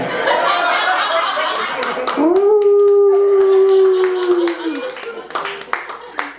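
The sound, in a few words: comedian vocally imitating a husky dog howling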